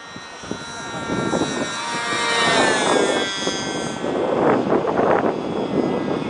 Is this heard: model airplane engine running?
yes